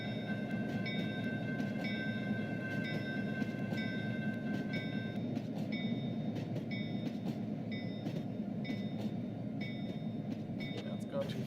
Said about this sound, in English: You'll see the train pass by, and as it passes by this intersection, this should trigger.